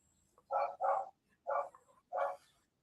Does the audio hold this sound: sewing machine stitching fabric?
no